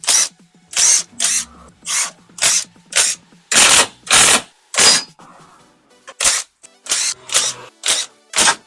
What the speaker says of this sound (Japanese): これでね、10mm のボルトをひたすら外していきたいと思います